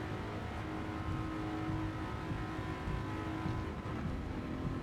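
A Jaguar F-Type R race car accelerating in fifth gear on Tokyo Expressway in Gran Turismo 7: a steady, loud engine drone that climbs gradually throughout, with no pauses and no voices.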